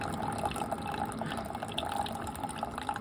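Gingerbread creamer poured into a cup of coffee, a soft, close trickle of liquid with small drips and splashes running steadily.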